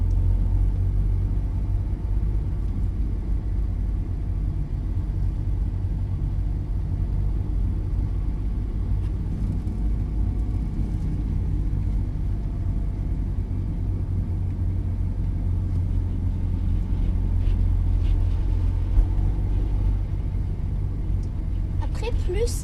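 Steady low rumble of a car engine accelerating and turning on a practice course, heard from inside the cabin with an instructor and driver talking over it throughout.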